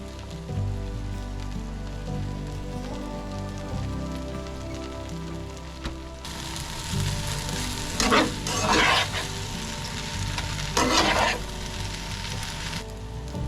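Pad thai sizzles steadily in a pan after peanut butter goes in, with a constant frying hiss and a few bursts of scraping and stirring near the middle of the clip.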